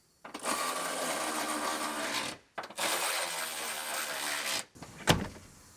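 A power driver tightens down the truck tray fasteners on a 2019 Sierra Denali in two long, close whirring bursts and then one short final burst.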